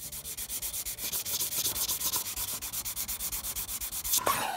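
A metal surface is sanded flat by hand with 800-grit sandpaper in a steady run of rhythmic back-and-forth rasping strokes, close and even, with no talking.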